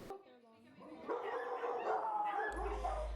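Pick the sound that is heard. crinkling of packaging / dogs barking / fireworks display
dogs barking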